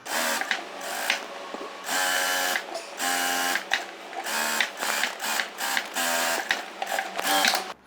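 A sewing machine stitches plain blouse fabric in repeated bursts of rapid whirring, starting and stopping between runs, close and steady.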